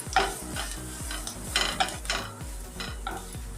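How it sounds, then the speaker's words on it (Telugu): Onions, curry leaves and grated carrot fry in oil while a spoon stirs them, making a regular rhythm of scraping strokes over a soft sizzle, close and alone. "ఉల్లిపాయలు ఆయిల్లో బాగా వేగిన తర్వాత కరివేపాకు, కొత్తిమీర వేసుకోవాలి. తర్వాత క్యారెట్ తురుము వేసుకోవాలి."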